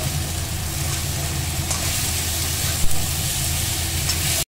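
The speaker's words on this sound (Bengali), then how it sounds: "এইবার মা যতক্ষণ না মশলাটা ভালো করে ভাজা হবে ততক্ষণ মা এটা ভাজতে থাকবে" Spice masala fries in a pan being cooked down for a soybean dish, a dense, loud, steady sizzle with crackle that holds unbroken throughout, with one brief knock near the end.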